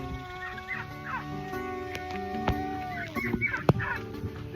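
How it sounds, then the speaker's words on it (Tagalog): Farm chickens at feeding time, with many overlapping clucks and a rooster crowing outdoors, steady moderate chatter of fowl in the background throughout. "Ako'y magpapakain lang ng mga manok"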